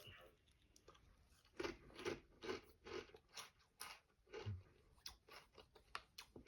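Ripple-cut sour cream and onion potato chips being bitten and chewed, giving a run of close, crisp crunches in an irregular rhythm over a quiet background.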